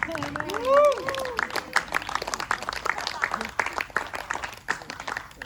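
A cabaret crowd claps in a broad, even wash of applause while someone speaks over it near the start.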